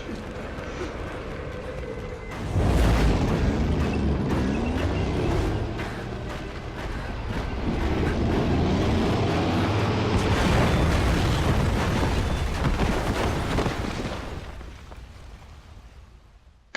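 In Metal Gear Solid 5, a heavy explosion erupts with a sudden loud boom, then rolling blasts, debris and rumbling bursts that swell again before fading out.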